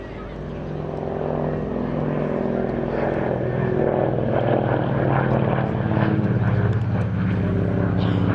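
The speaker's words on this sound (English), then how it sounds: "The utterly gorgeous and incredibly historically significant Lockheed 12A Electra Junior" Lockheed 12A Electra Junior twin-engine propeller aircraft flying at an East Kirkby airshow, a steady loud engine drone that swells in after the first second and holds close and continuous throughout.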